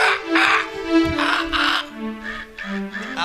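A bow-song (villupattu) performer at a temple festival imitates a crow's caw with the voice, giving several loud, nasal, cawing calls close to the microphone.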